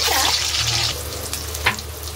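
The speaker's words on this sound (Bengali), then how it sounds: "সেই জন্য ডিমটাকে ভেজে নেবো।" An egg fries in a pan on a home stove with a close, bright sizzle that is loud at first, then eases into a quieter crackle. A short clatter comes near the end, with no speech.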